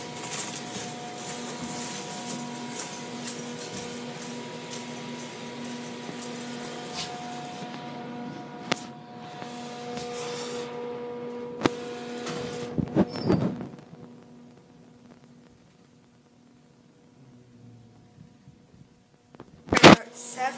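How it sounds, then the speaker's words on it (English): A Quality Allied elevator runs with a steady low motor hum and faint tonal whine, a few clunks and a door-like rumble midway, then near-silence before a sharp clatter at the end. "This is a Quality Allied elevator."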